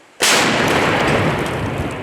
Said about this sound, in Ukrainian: розрахунок гаубиці веде стрільбу не тільки на зрив російських штурмів, а й по логістиці противника